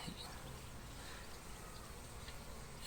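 Honeybees buzz softly at a hive entrance on a winter day, a steady low hum of insects with pollen-laden foragers coming and going, faint and continuous throughout.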